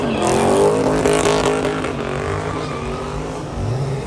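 Car engine under hard acceleration during a 0-100 mph pull, with Scat Pack and Mustang cars mentioned, a loud sustained roar with a rising pitch and a shift near the end, heard up close inside the car.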